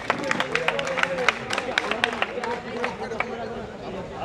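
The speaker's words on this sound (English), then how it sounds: "Big round of applause." An audience at the GCECT Jagriti 2K16 college fest breaks into applause, with dense, sharp clapping and crowd cheering that gradually thins out, amid shouting voices.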